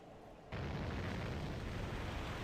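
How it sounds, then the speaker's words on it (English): An explosion in Dragon Quest VIII on PlayStation 2 bursts in suddenly after a quiet moment, then holds as a loud, dense, rumbling roar. "Whoops, explosion."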